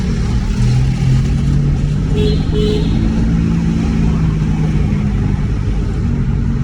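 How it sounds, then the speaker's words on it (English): A Honda Civic FD engine revs during a downshift, a steady loud drone of engine and road noise from inside the car lasting throughout. "Let me get a stretch, I'll downshift. Okay, so let's downshift that."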